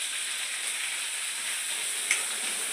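Ground roasted onion-tomato paste sizzles in hot oil, a steady soft frying hiss without pause, with one brief sharper spatter near the end.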